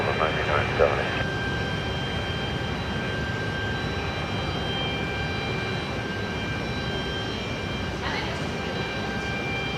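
A Delta jet airliner takes off from runway 34 right at Seattle-Tacoma International Airport, its engines making a steady broad roar that holds throughout, with a person talking over it.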